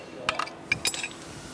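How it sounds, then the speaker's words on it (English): Metal wrenches clink and ratchet against a nut as an inch-and-an-eighth wrench and a spanner wrench on a ram mount loosen it during an Edge chisel cylinder change; a few short, close metallic clicks over a quiet background. "Inch and an eighth on the nut, spanner wrench on the ram mount, and go ahead and loosen it."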